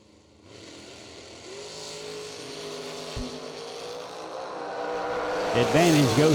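A dragster driven by Bobby Johns launches down a drag strip at a race meet, its engine note climbing steadily and growing louder over several seconds, with a strong rising roar near the end.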